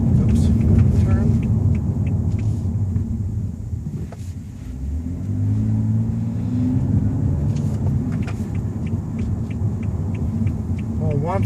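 A 2014 BMW M235i in automatic mode gives a steady low engine hum and road rumble while driving, with a brief dip and a gear-change sweep midway, heard from inside the cabin under light talk.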